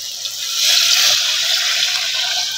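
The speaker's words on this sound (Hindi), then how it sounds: "अब इसमें डालेंगे हम गरम पानी" Hot water poured into mutton in a pressure cooker, a steady hissing splash that swells and holds close up for a couple of seconds, with no talking.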